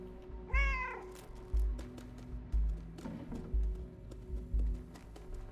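A cat in the video game Stray gives a clear, close meow, then a second shorter one, over a rhythmic low thumping background.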